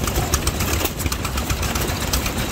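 Antique Fuller and Johnson gas engine running at an old threshers show, a steady close chugging with dense rhythmic firing and clatter throughout, no talking.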